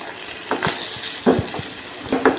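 Onions, capsicum, chili sauce and sugar for chicken manchurian being stirred in a pan, several distinct scraping and clacking strokes of a spoon against the pan over a soft sizzle, close up and with no talking.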